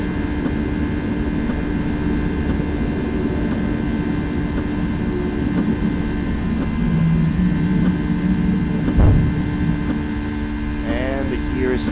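Boeing 757 (Flight Factor model) climbing out of Manila in X-Plane 11 with its landing gear loud: a steady, close engine drone with a tonal hum that runs unbroken throughout.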